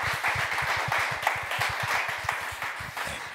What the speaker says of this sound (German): vielleicht noch einmal Applaus uns allen